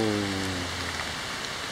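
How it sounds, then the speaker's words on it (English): Heavy pouring rain outdoors, a steady broadband wash of drops drumming on surfaces, loud and continuous, with a faint low hum fading out early and no talking. "Except right now it's pouring rain, so I'm gonna do something else."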